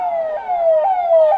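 A loud electronic civil defence air raid siren sweeps downward in pitch in repeated cycles roughly every half second during a blackout mock drill in Patna, sounding alone without voices.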